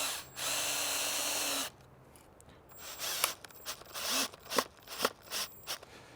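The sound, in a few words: power drill driving a screw into a frame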